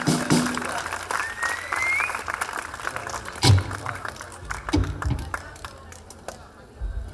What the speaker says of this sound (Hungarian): hatalmas tapsok neki!